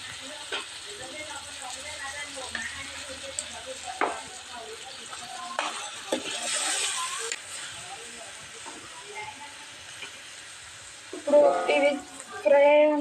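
Chicken liver sizzling and frying in a pan, a steady hiss throughout with brief louder bursts of steam and stirring near the end, heard up close.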